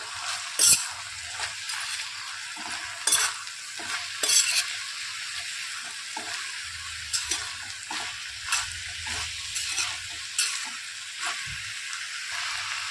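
Broad beans are stirred in a hot pan with garam masala and salt. A steady soft sizzle runs throughout, with occasional spatula scrapes and taps, close but fairly quiet.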